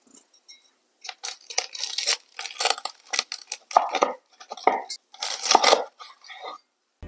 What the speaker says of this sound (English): Now you can hear the crispy crackle of the pork skin.